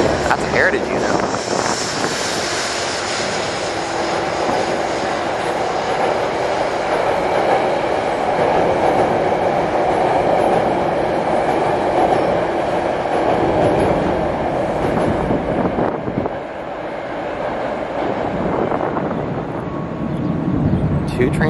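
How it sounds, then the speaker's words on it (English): Two trains pass at once at Harlem 125th Street station in New York, making a loud, sustained rumble and rush that holds steady for about twenty seconds, with a voice talking over it. "Two trains at once, wow."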